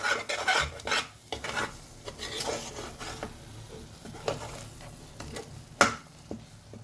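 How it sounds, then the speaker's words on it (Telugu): Ivy gourd masala fries in oil with a constant sizzle, broken by repeated scraping and stirring strokes of a spoon against the pan, close and fairly quiet. "నూనె పైన తేల వరకు అట్లనే ఫ్రై చేయండి ఒక 3 మినిట్స్,"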